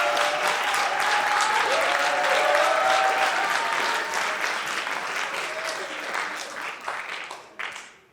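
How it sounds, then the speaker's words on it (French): Audience applause at a film festival's official selection screening, a dense burst of clapping that holds steady, then thins and fades out over the last seconds. "Merci beaucoup pour ces applaudissements."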